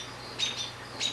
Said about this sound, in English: I hear some birds pretty upset